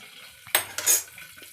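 A metal lid is set onto a cooking pot on the stove, one sharp clank followed by a second clatter as it settles, with a soft frying hiss underneath.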